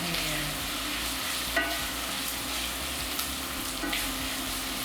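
Onion fries in a pan until golden brown. A steady, dense sizzle runs throughout, with occasional soft stirring scrapes and no talking.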